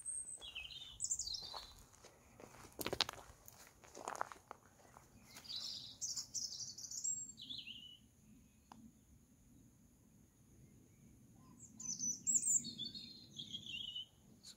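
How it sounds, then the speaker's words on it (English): Small birds sing in scattered bursts of chirps and trills at evening, alongside possible grouse and pheasant calls, fairly distant over a low background hum and quiet stretches. "Grouse and pheasant, some little birds with an evening song."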